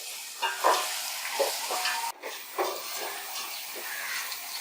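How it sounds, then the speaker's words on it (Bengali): Onions frying in a pan, a steady close sizzle broken by intermittent stirring scrapes and brief hissing bursts, with no talk. "পেঁয়াজটা ভালো করে ভাজবো।"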